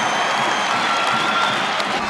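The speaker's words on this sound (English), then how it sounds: "Oh, the crowd is up again." A crowd at a college wrestling match cheers and applauds in a dense, steady roar that fills the whole stretch without letting up.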